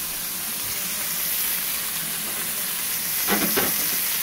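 Pizza burger patty frying in a pan, a steady close sizzle and hiss with a brief louder crackle near the end, no voices.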